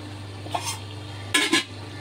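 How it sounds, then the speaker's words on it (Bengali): Chicken pieces being stirred and seared in a cooking pot for a chicken curry, with two short bursts of scraping and clattering against the pot over a low steady background hum, no voices. "এখন পানি আছে সেই কারণে আমি গোশটা কষছি"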